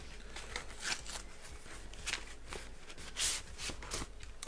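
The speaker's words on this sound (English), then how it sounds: "I like to clip the edges of the legal envelopes." Scissors snip along the edges of a large legal-size mailing envelope, giving a run of crisp, close paper crackles and cuts at an uneven pace, with no talking.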